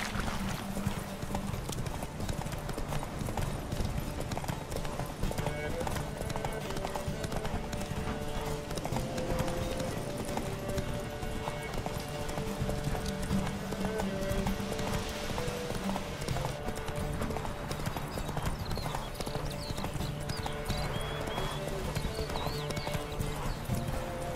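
Roach, a horse in The Witcher 3 video game, galloping at a steady, rapid clip-clop of hooves that runs throughout, with faint game ambience beneath.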